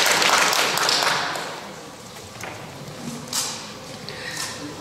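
An audience at a 2020 members' general assembly applauds in a meeting hall, with dense clapping that starts loud and fades over a few seconds, followed by scattered taps and thumps.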